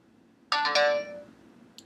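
A phone plays a short chiming ringtone for an incoming SMS text message, a few bright tones in quick succession then a fading tail, alone in a quiet room.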